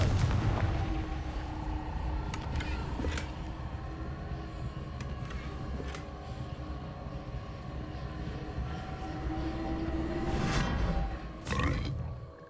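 Confringo blasting spell from Hogwarts Legacy going off, booming explosive bursts over a continuous rumbling roar, with sharp cracks and a louder blast near the end, no talking.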